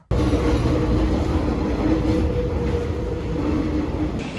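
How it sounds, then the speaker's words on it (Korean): A Paris metro subway train runs with a loud, steady, close rumble and rattling wheel noise that holds unbroken throughout, with no talking. "아무리 봐도 파리 지하철은 너무 위험하게 생겨 먹었다"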